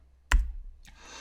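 A single sharp keystroke on a computer keyboard, typing the equal sign into an Excel spreadsheet, followed by a softer click and faint room noise.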